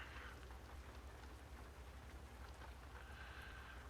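Rain falls in the driving game American Truck Simulator near Portland, a soft, steady patter of drops over a low rumble, faint and continuous with no talk.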